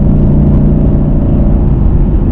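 A 2021 Ford Mustang Mach 1 V8 holds a loud, steady, deep rumbling idle right up close, thick low burble with no breaks.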